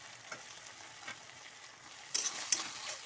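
Chopped tomato fries with a ginger-garlic spice masala in a pan, giving a soft, steady sizzle. Sharper spatter and scraping bursts come near the end, with no voices.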